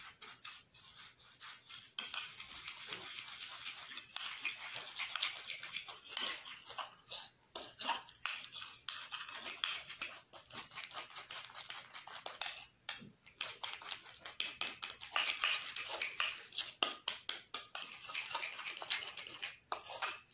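A spoon mixes a homemade coffee and egg hair mask in a small bowl, giving a steady run of close scraping and clinking with brief pauses throughout.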